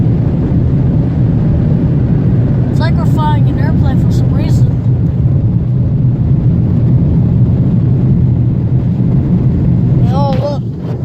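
Automatic tandem car wash dryer at a Woodman's in Menomonee Falls, Wisconsin blasting air over a car after a spot-free rinse, a steady loud roar throughout with people talking over it.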